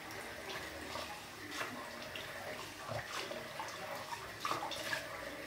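Tap water runs at a sink to rinse alum off after a shave, a steady low splashing flow with small uneven bursts, faint and close.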